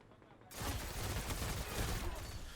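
Pulse rifle fire in Destiny: The Taken King, with the Suros PDX-45 legendary pulse rifle. A loud, dense volley of shots bursts in after a half-second of quiet and keeps going to the end.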